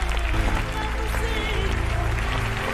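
Applause at the end of a film, a short burst of dense clapping heard with tonal music or voices layered over it.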